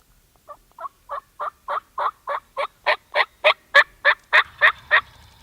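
A wild turkey gobbles in a rapid series of about fifteen short, evenly spaced bursts that grow louder and closer, with a faint low rumble near the end and no talking.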